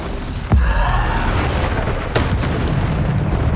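Bombarda spell explosions in Hogwarts Legacy combat land as two sharp booming blasts about a second and a half apart, each with a fizzing burst and rumble trailing off, loud and close.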